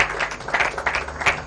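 Audience clapping to encourage a 15-year-old student at a school gathering with a minister, a brief, moderately loud burst of many hands with no voices over it.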